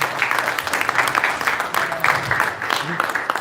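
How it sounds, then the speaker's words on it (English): Audience applause at the opening of a US national carrom championship, a dense, steady wash of clapping that fills the room for a few seconds without letting up. "Please give him a huge round of applause"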